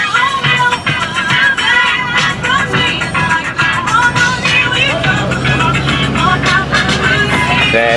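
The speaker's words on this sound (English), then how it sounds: "All the big time dogs is out here with these fast skis." Racing jet skis at Long Beach, a loud continuous engine roar with passing whines and broadband water and motor noise, near and dense throughout.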